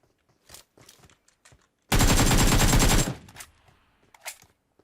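Gunfire in PUBG Mobile bursts out as a loud, rapid automatic volley lasting about a second, set between soft footsteps and faint in-game shuffling.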